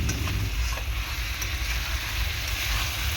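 Potatoes sautéing in hot oil in a pan for a spicy ghugni of peas and chickpeas, a close, steady sizzle with faint stirring, no talking.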